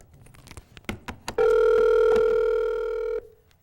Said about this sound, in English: if I can dial the right number